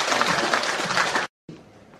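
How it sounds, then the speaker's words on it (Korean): Applause from a seated audience at a Korean Christian forum gathering, a dense burst of clapping that fills the room and then cuts off abruptly, with a fainter round of clapping resuming briefly after. "오늘 우리 강사님께 다시 한번 우리 크게 박수"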